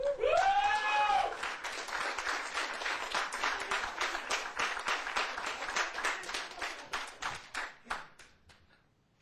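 An audience at a Garden Grove city council meeting breaks into moderate applause, a dense burst of clapping that thins into scattered individual claps and fades out after several seconds.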